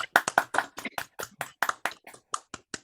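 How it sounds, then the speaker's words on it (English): Distinct hand claps, a dozen or so in a quick, uneven run, sound close and crisp during an online meeting, growing slightly softer and more spaced toward the end. "give a round of applause to show your excitement and enthusiasm"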